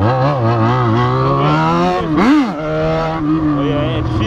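Yamaha XJ motorcycle drifting, its engine revving loudly and close with rising and falling pitch sweeps and a sharp surge midway, running continuously without pause.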